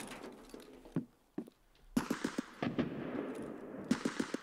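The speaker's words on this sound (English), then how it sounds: "They're shooting at us." Gunfire in the video game Escape from Tarkov: scattered single shots and short bursts, moderately distant and not very loud, over a quiet background with no talk.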